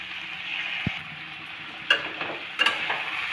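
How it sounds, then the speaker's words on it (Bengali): Boiled vegetables for a chhenchki are mixed with a little mustard paste in a pan. A low frying hiss carries several sharp spoon scrapes and knocks, close by with no speech. "সর্ষে বাটাটা দেওয়ার পর আবারও ভালোভাবে মিশিয়ে নেওয়া হচ্ছে।"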